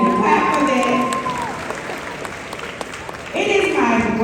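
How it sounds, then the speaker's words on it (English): Clapping rises from a middle school graduation audience beneath a speaker's amplified voice. Talk carries over most of the stretch, and the applause stays steady underneath. "yeah, you can clap for that"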